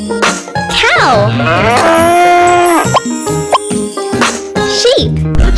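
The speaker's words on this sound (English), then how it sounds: "Cow." A cartoonish cow moo stretches out in a long, loud, close call inside a children's animal game, surrounded by bright jingly sound effects and plopping tones.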